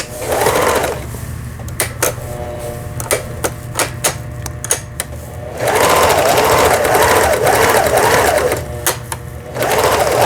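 A Pfaff 6110 sewing machine stitching a triple straight stitch, loud close bursts of fast mechanical running broken by sharp clicks and knocks between runs.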